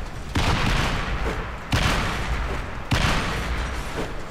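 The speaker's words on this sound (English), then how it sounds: "Man, I love these explosions." Three loud grenade explosions in the video game Escape from Butcher Bay burst in quick succession, each followed by a dense, sustained rumble that barely fades before the next blast hits.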